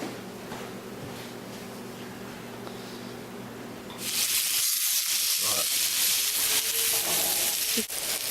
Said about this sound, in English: now we have it out here on the grill, and we put the sprinkle side down